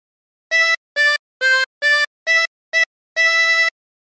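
Harmonica playing the opening phrase of Mary Had a Little Lamb, seven clean reedy notes, six short evenly spaced ones and a longer held final note, close and alone without talk.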